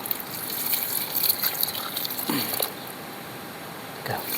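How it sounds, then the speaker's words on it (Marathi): Water gushes and splashes steadily onto garden plants in a yard, as if poured from a hose or pipe, with a brief change in flow partway through. "बरोबर पाणी घालतो यात"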